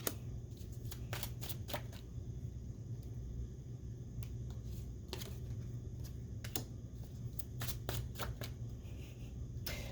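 Tarot cards shuffled by hand, a quiet series of rapid riffling bursts at irregular intervals over a low background rumble, close and soft, with no voices.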